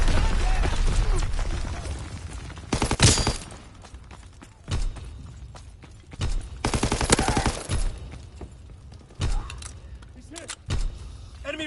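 Mortar barrage in a Call of Duty WWII hardcore multiplayer match: several loud, sharp blasts land in separate bursts, some close and booming, others farther off, with game noise and voices between them.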